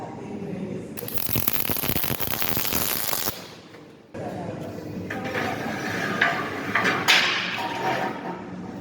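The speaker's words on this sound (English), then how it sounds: "I'm going to tack that onto the end of the arm" Tack welding a steel tube onto the end of a steel arm in a shed workshop: two long spells of harsh, crackling arc sizzle, loud and close, split by a brief quiet gap.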